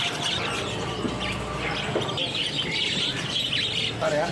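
Caged birds at a bird market stall chirp and tweet busily, several bright calls overlapping in quick bursts over a murmuring market background.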